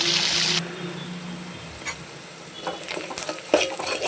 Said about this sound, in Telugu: ½ టీ స్పూన్ పసుపు, 2 స్పూన్ల సాల్ట్ వేసుకొని బాగా కలుపుకోవాలి.